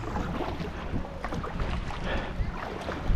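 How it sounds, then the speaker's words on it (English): Kayak paddling on open water off a beach near Anacortes, with a steady wash of water and wind noise, faint irregular paddle splashes mixed in throughout. "So we just started kayaking."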